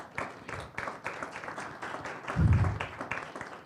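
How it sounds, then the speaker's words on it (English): Applause from a lecture audience at Boston University, a steady patter of many hands clapping in a hall, moderately faint and continuous, swelling briefly near the middle. "That is very well deserved applause"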